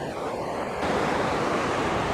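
Water flows steadily over a weir in wetlands, a dense, continuous rushing wash that grows fuller partway through, with no voices.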